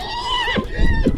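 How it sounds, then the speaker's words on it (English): A wild horse neighs in a long, rising whinny while hooves clatter close by, with frantic human shouting mixed in during an attack on riders. "The wild horse attacked the horse riders, causing commotion."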